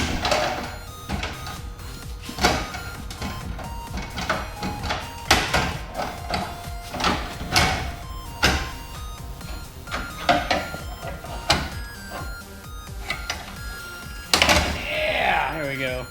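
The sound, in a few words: prying parts out of a Miata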